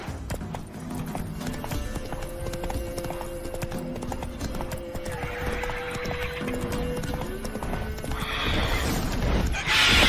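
Roach, the horse in The Witcher 3: Wild Hunt, gallops with a steady, rhythmic clip-clop of hooves that grows louder over a continuous background, with a neigh toward the end.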